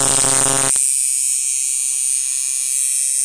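Long-stroke tattoo liner machine with a 3.5–4 mm stroke buzzes loudly and steadily at close range, its tone shifting abruptly early on and then holding an even whine.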